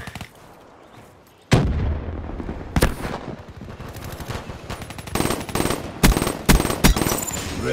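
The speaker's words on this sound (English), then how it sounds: "Incoming frag." A frag grenade goes off in Call of Duty Black Ops III amid a loud firefight, with sharp blasts and bursts of gunfire cracking repeatedly over a dense rumbling battle bed.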